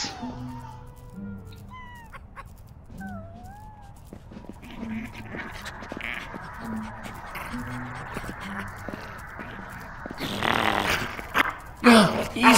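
Dogs in the Minecraft: Story Mode video game let out low, repeated growls and short barks, mixed with game sound effects and character voices, then a louder burst of noise near the end.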